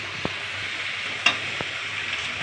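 Chicken curry sizzling in a pan with a steady hiss, broken by a few sharp clicks of a spoon against the pan.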